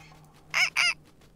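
A cucco, the chicken in a Legend of Zelda game, lets out two quick, loud squawks over quiet background music.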